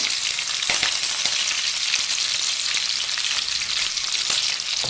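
Curry leaves, ginger and garlic sizzle in hot oil for a Maharashtrian amti, a dense continuous crackling hiss with scattered sharper pops throughout, close and fairly loud with no talking.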